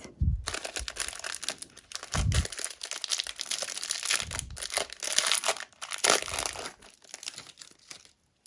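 A paper surprise package is unwrapped close up, with loud, continuous crinkling, tearing and crumpling paper sounds and a few soft thumps, and no speech.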